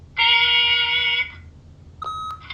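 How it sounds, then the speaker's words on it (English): Answering machine beep in the video game The Wolf Among Us: one long, loud electronic tone lasting about a second, then after a pause a shorter second beep. "leave a message at the beep and we'll get back to you as soon as..."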